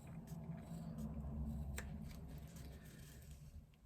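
Scissors cut fabric just inside a line of stitching on a sewn flap. Soft, close snipping sounds are heard at low volume, slow and deliberate.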